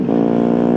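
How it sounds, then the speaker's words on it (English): A motorcycle fitted with a loud aftermarket exhaust, giving a brief, deep, throbbing exhaust note that is close, loud and steady, heard alone. "I've got an obnoxious exhaust. Yes, that is loud."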